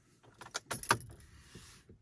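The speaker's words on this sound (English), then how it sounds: "we'll go ahead now and turn the ignition on" Key turning in the ignition of a 2019 VW MK7 Jetta S, with a few close metallic jangles and clicks over about a second, followed by faint quiet thumps.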